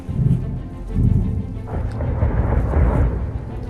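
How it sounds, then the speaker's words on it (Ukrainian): Grad rocket artillery fire booms in the distance as repeated low rumbling blasts, several heavy thuds rolling one into another at a steady loud level, with no talk over them. "Это гради."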